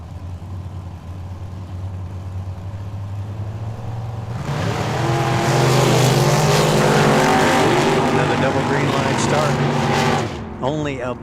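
Drag racing cars, a Chevy S10 and a Camaro, idle at the starting line of Tucson Dragway, then engines roar loudly as they launch and pull away before the sound cuts off abruptly.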